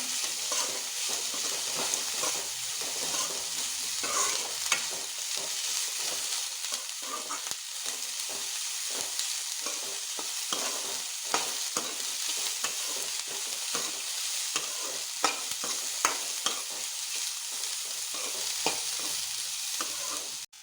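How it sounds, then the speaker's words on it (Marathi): Roasted chana dal sautéed and stirred in a pan for upma, giving a steady, close sizzle with frequent scraping taps of the spoon throughout, no voices. "भाजलेले चण्याची डाळ घेता. मातशी परतून घेऊया."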